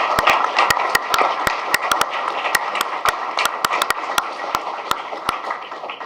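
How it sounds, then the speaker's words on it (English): Applause breaks out at a county board meeting right after a unanimous vote, a dense, steady clapping from a room full of people, with sharp individual claps popping through the continuous patter. "Now you can clap."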